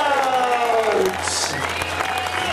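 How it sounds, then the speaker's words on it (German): Spectators at an elite women's mountain bike Bundesliga race in Bad Säckingen applaud a rider as she arrives. The clapping runs under an announcer's amplified voice, with a brief cheer rising midway. "Gebt ihr einen Applaus."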